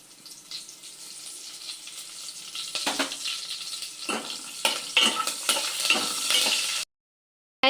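Curry leaves and dried red chillies frying in hot oil, a continuous crackling sizzle that grows louder as the spatter intensifies, with scraping stirs of a spoon in the pan, cut off abruptly near the end.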